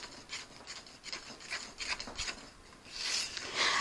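Cinnamon roll batter being stirred with a big spoon, a close, continuous scraping and swishing in a bowl with rhythmic strokes that grow slightly louder toward the end.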